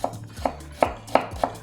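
Potato is chopped with a knife on a cutting board for Chinese silk potato, five sharp, close strokes at a steady, slightly uneven pace, alone and fairly quiet.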